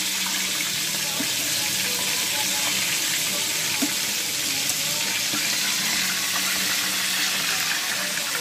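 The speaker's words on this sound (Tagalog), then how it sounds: "Nagprito na naman ng manok." Chicken sizzles and crackles steadily close by in frying oil, a constant bright hiss with small pops.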